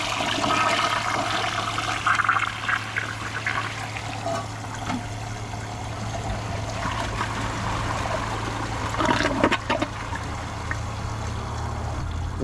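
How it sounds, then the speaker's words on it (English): A Kohler Highline Arc tall-tank toilet flushing in a 2025 performance test, a steady rushing and gurgling of water lasting the whole stretch with a low hum underneath and a few brief clanks near the end. "Here's another flush. The power of the flush."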